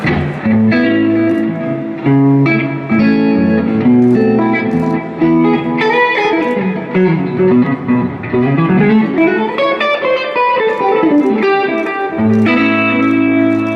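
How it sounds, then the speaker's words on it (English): An Eric Johnson signature Fender Stratocaster electric guitar plays a clean, bright melody with chords and runs, thickened by a shimmering chorus-like effect and some reverb. "I like the fact that it, you know, has the regular Strat sound."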